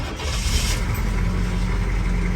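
A 1980 Chevrolet C10 Scottsdale pickup with a 5.7 diesel engine running nearby, a steady, loud, rough mechanical drone that holds level throughout with no voices.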